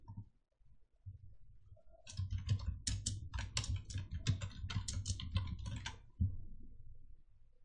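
Keys on a computer keyboard are typed in a quiet room while text is entered for a PowerPoint slide, a fast run of light close clicks over about four seconds with a low hum beneath.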